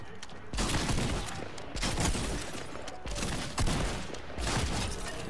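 Repeated shotgun blasts from a lever action shotgun in a video game, several loud booming shots spaced a second or so apart over a continuous backdrop of in-game noise.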